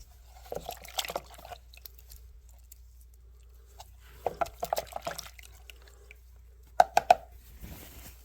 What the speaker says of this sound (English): We can wash off our covers here.